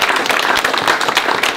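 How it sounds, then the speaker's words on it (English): Audience applause for panelists at the close of a government analytics breakfast forum on the opioid crisis, a dense, steady patter of many hands clapping at close range with no talk over it. "We'll give them a round of applause."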